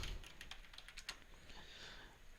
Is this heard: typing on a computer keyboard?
yes